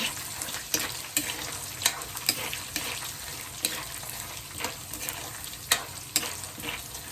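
Thinly sliced garlic, a whole head's worth, frying in oil, a steady close sizzle with repeated stirring scrapes and crackles at irregular intervals, no voices.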